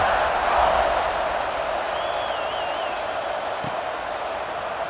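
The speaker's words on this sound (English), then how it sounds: "this crowd is feeling themselves after that last drive" Stadium crowd noise in EA Sports College Football 26, a steady loud roar of massed fans around a kickoff that holds level throughout with a faint whistle-like tone briefly on top.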